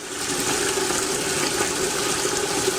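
Water rushes steadily through a supply line during a pressure test, a constant loud hissing gush with a faint tonal hum, uninterrupted and close.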